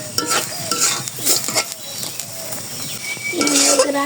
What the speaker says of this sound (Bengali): যে পর্যন্ত আর কি ডোনা তৈরি হবে সে পর্যন্ত নাড়তে করতে থাকবো